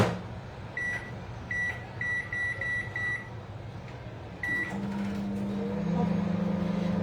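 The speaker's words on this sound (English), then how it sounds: "I'm just adding it in the microwave." A microwave oven heating chocolate ganache hums steadily while a series of short electronic beeps sounds in bursts, followed by a faint low tone as the run continues.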